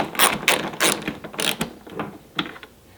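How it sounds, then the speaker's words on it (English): A Torx T27 screw is backed out of a Harley Street Glide mirror mount with a ratcheting driver, giving a series of close, sharp clicking bursts in an uneven rhythm. "and I'm just going to take that screw all the way out"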